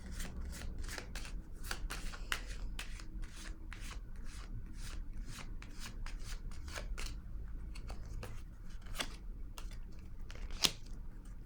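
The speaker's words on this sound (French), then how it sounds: "Je vais déposer une autre carte ici." Tarot cards laid down and slid across a table one after another, a steady run of soft, crisp taps and brushing sweeps, close and quiet with no talk.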